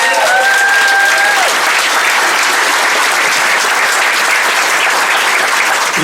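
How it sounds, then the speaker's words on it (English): Enthusiastic applause from wedding guests honouring the bridesmaids during a speech, a dense, loud roar of clapping that holds steady throughout, with a few brief whoops at the start. "I think they deserve a special round of applause."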